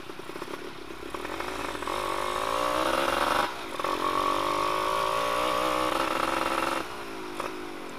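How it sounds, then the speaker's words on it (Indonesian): A Yamaha F1ZR two-stroke motorcycle runs with the exhaust muffler baffle removed, its raspy, buzzing exhaust revving up and holding high for several seconds, dipping briefly, then climbing again, close and loud with no talking. "Suara knalpot ini enak banget asli."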